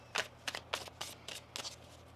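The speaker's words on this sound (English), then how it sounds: "One more shuffle here." Tarot cards are shuffled by hand in about seven quick riffling bursts, close and crisp against a quiet room.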